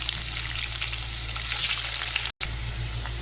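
Onion, bay leaves, cumin and whole spices frying in hot oil give a steady, loud, close sizzle that runs throughout with a single brief dropout near the end.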